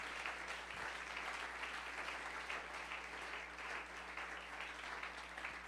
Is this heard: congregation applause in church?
yes